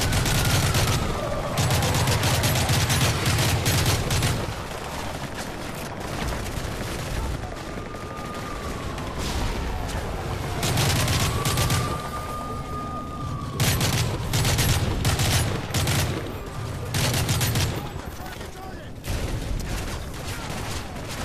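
Sustained bursts of automatic gunfire in Call of Duty: Modern Warfare 3, loud rattling volleys in repeated stretches with brief pauses, mixed with explosions and whistling projectiles, voices talking over parts of it.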